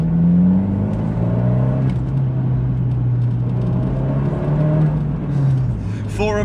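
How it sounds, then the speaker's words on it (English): Abarth 124 GT Spider engine with a Record Monza exhaust, revving loud and close in a sustained low drone that rises and falls, with a brief sharper burst near the end. "For a car that you can buy pretty much out the box like this with a record Monza exhaust, it just sounds so good."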